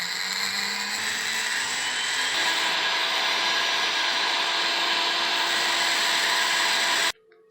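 A power grinder whines steadily and loudly, close up, while it grinds a fused joint on a metal ring without solder, then cuts off abruptly near the end.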